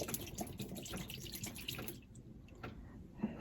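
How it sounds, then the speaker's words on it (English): Water poured out of a bottle, heard as a quiet, steady trickle and splash with a few drips, fairly faint and close, with no talking over it. "I gotta pour some of this water out."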